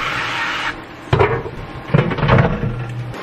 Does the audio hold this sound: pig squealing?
no